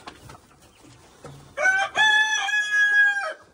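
Several faint clucks, then a loud rooster crow rising and holding, close by and alone, on a farm.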